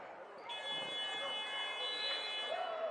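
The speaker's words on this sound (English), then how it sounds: "That's an annoying buzzer." A basketball shot clock expiration buzzer sounds in a girls' high school game, holding a steady electronic tone for about two seconds. It is fairly faint and distant, under gym noise and commentators talking.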